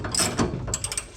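A ratchet socket wrench with a 22mm socket works the tight bottom shock nut on a VW Vanagon's front suspension, giving a quick run of close, crisp clicks in a few short bursts.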